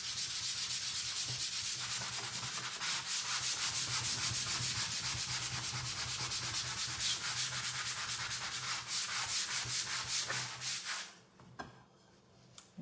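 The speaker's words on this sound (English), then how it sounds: "I've just sanded back so we can see some of the raw wood underneath." Steady, continuous sanding rubs back painted wood on a handmade stenciled sign, scraping evenly for about ten seconds before stopping near the end, with no talking.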